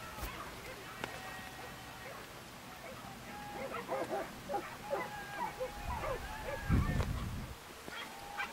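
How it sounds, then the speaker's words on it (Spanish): Hunting dogs bark during a montería, a driven big-game hunt in the countryside, with yelps and barks rising from distant to nearer and a louder cluster of baying toward the end. "No dejaban de oírse las ladras."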